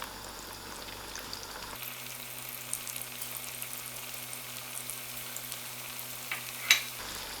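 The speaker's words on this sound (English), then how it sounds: "And I allow these onions to" Onions frying in melted vegan ghee give a steady, moderate sizzle with scattered crackles and one sharper pop near the end, with no voices.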